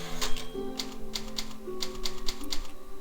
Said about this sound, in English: and we got a typewriter